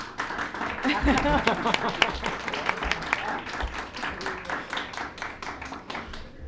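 Applause from a crowd at a school board of education meeting, steady rapid clapping lasting the whole stretch with voices talking over it.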